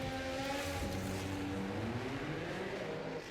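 A Formula 1 car in a racing video game pulls out of the pits with a steady, droning engine whine whose pitch shifts as it accelerates, heard alone at a moderate level with no talk.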